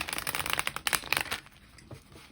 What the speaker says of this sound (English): I'm going to shuffle a few more times on camera just to kind of connect with collective energy